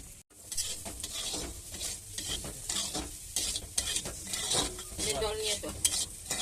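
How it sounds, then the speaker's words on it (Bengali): Potatoes with poppy seeds sizzle and fry in a pan while a utensil stirs and scrapes repeatedly, close and continuous. "মা এখন পোস্ত দিয়ে আলু ভাজবে"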